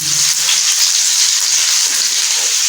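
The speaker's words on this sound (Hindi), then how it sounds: "टू टेबलस्पून ये बारीक कटा हुआ लहसुन है, इसको फ्राई करना है।" Two tablespoons of finely chopped garlic frying in oil toward golden brown, giving a steady, loud, continuous sizzle throughout with no talking.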